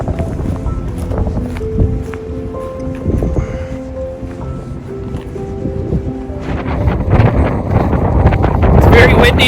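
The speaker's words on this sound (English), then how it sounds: "Very windy today." Strong wind buffets the microphone while walking through a meadow in the Grayson Highlands, a loud, continuous rushing roar that grows stronger toward the end, with a voice heard briefly over it.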